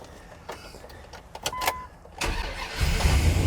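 A car engine cranks on starting spray with no fuel pressure, beginning with clicks and a short whirring starter whine, then catching into a rougher, louder low rumble that grows over the last second.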